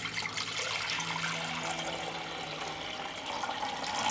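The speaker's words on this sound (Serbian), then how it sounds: "u njega ću sipati litar hladne vode" Cold water pours steadily into a 6-litre pressure cooker holding jars, a close, continuous rushing gush with a low hollow tone, alone and without voices.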